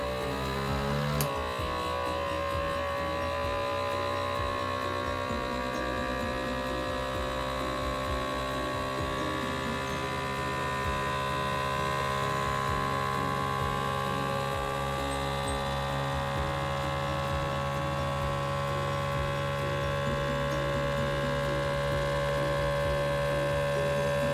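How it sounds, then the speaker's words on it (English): A FoodSaver vacuum sealer with its jar accessory pulls air out of a glass canning jar, making a steady close mechanical hum and whir that runs on without a break after a sharp click at the start. "you are going to hear all the air being sucked out of it"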